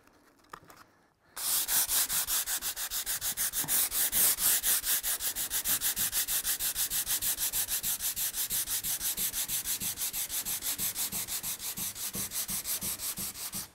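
A teak table from a mid-century G-Plan nest of tables is hand sanded with a block and sandpaper, working with the grain. The scraping starts after a brief quiet moment and continues close and steady in even, rhythmic back-and-forth strokes.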